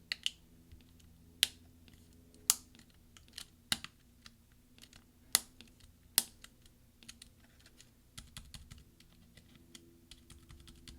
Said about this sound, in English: press down until you hear all the snaps from the various clips underneath it that need to click in